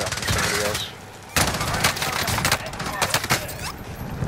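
Dense automatic gunfire in the video game Warzone, loud and nearly continuous with sharp individual shots and one short lull, mixed with overlapping player voices.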